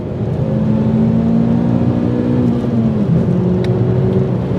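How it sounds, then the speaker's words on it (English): A 2003 Ford Focus ST car engine drones loudly and steadily, its pitch holding high then dipping slightly as it revs, with no voices over it. "It's a bit of a screamer of an engine, eh? Listen to this."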